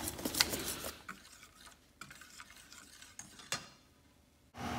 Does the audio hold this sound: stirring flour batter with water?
yes